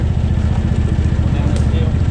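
A Gator utility vehicle engine runs loud and close with a steady, rapid low throb as it heads downhill on a rural track, with a voice briefly under it.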